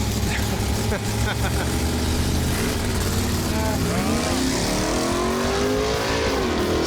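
Race car engine stuttering at launch, a loud rough revving that wavers and climbs in pitch, heard close with people talking over it.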